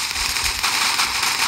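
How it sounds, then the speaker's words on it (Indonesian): A snake-themed gun fired rapidly at monsters in a video game, a dense burst of crackling, popping shots over a bright hissing wash, steady and fairly loud throughout. "pokoknya Cecil menggunakan ular. Pistolnya ular, jadi kita bisa bun-bun ini para monster ini dengan cepat"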